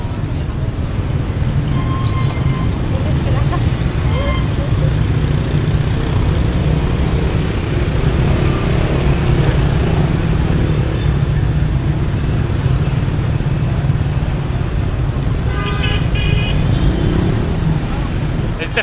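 Street traffic in Hanoi forms a dense, steady roar of passing motor vehicles with engine rumble close by and a few faint high squeaks, while a voice talks at times.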